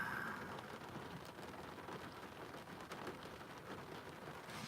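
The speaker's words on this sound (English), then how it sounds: "Oh, you gotta love the storms." Steady rain pours during a storm, a dense continuous hiss with faint low rumbles of thunder, heard from inside a vehicle with no talking.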